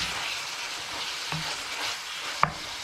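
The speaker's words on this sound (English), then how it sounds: "then I'm going to let that simmer for about 20-25 minutes" Beef mince simmering in a pan for empanada filling gives a faint, steady soft sizzle and bubbling, with one brief small clink partway through.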